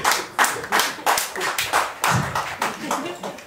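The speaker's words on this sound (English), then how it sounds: "Who claps very weakly?" A comedy-show audience claps weakly in scattered, uneven bursts, roughly a dozen sparse hand claps spread across the moment rather than full applause.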